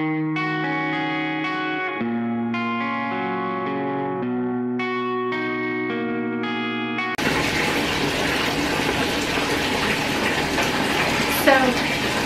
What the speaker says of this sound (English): The water is still, I'm still filling up the tub.